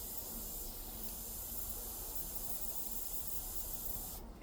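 Airbrush spraying solvent-based paint in a steady, continuous hiss that holds close and even throughout, with no talk and a slight change near the end.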